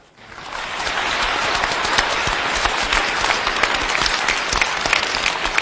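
An audience applauding at the end of a lecture-style televised cultural forum in a hall, dense sustained clapping that swells in within half a second and holds steady, fairly loud, with no speech.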